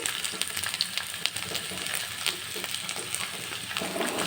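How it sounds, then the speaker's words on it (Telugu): Chopped onions and tomatoes sauté in a little oil in a pan, giving a steady close sizzle with small crackles and the odd scrape of stirring, and no voices. "ఇప్పుడు మనం చిన్నగా కట్ చేసి పెట్టుకున్న టమాటో ఆనియన్స్ రెండు మగ్గించాలండి"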